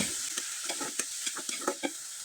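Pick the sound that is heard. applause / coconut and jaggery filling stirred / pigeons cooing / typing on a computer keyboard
coconut and jaggery filling stirred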